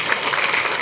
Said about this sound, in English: May I request you all of to give a big round of applause to all the people.